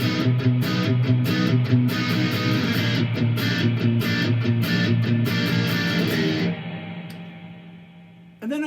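Heavily distorted electric guitar playing octave chords against a ringing open string, in a driving rhythmic pattern of repeated attacks that ends on a sustained chord and a brief final pick.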